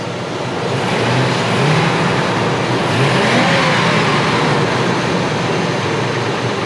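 A Ford F-250 pickup engine is revved up under load, a loud close roar that swells and holds steady with rising pitch sweeps, no speech over it.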